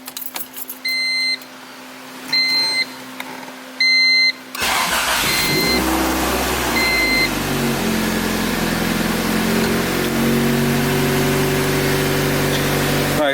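Keys jingle and a car chimes with repeated dashboard beeps, then a Honda Civic Si hatchback's B16A engine cranks and catches, settling into a steady idle that continues to the end.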